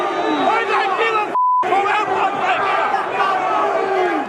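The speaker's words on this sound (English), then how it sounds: "The crowd is certainly getting bigger and they're very passionate." A large, passionate crowd of street protesters in Melbourne chants and shouts together in a loud, continuous roar, with a brief electronic beep tone cutting through midway.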